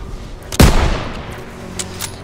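A single loud gunshot from Call of Duty WW2 cracks out near the start, its boom trailing into a fading rumble, followed by faint distant pops.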